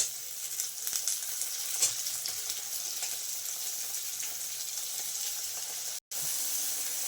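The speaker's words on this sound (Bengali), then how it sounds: "একটু ভাজা ভাজা করে নেবো।" Onion, tomato, garlic and green chili fry in a pan for an egg and lentil curry, giving a steady close sizzle with light stirring scrapes and a brief cut near the end, with no talking.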